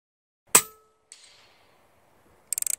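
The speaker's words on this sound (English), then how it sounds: "See if we can hit that bell down there." A pellet from a Taipan Veteran Long bullpup PCP air rifle strikes a distant metal bell target with one sharp clang and short ring. A fainter knock follows, then a quick burst of rapid clicks.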